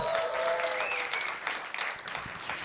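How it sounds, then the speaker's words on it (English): Graduating students of an academy applaud themselves at a graduation ceremony, a dense wash of many hands clapping at moderate distance, steady and then thinning slightly toward the end. "Clap for yourselves"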